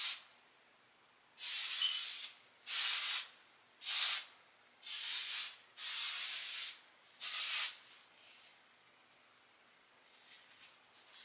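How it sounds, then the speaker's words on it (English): An aerosol spray can released in six steady bursts of loud hissing, each lasting about a second with short gaps between, followed by faint rustling. "Let me spray this."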